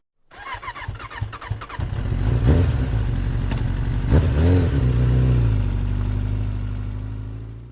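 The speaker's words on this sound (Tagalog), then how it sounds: "Habang nagdadrive ako ng motor" A motorcycle engine starts with a clatter, then revs up and settles into a steady, loud running drone, close by.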